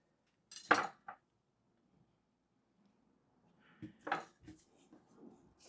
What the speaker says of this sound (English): Pigment builds up on my knife. I just wipe it off on this block.